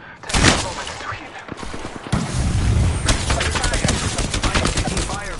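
Video game firefight with gunfire aimed at the player, a loud close burst followed by sustained rapid automatic shooting that keeps rattling steadily to the end.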